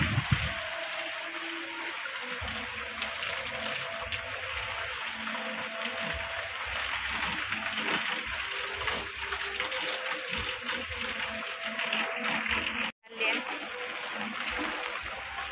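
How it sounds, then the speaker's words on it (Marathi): Heavy rain pours down with wind, a steady hissing wash of water close by that continues throughout, with a brief dropout near the end. "किती दिवसांनी पाऊस आला आहे."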